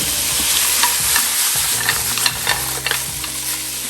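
Squid fries loudly in oil in a pan while being stirred, a dense continuous sizzle with scraping and clinking of the utensil against the pan in irregular bursts, close and with no talking.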